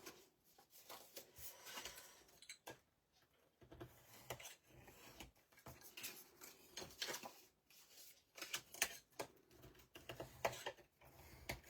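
Soft rubbing and scuffing strokes of a hand burnishing folded paper pockets, faint and close, repeating in short irregular bursts with no talk.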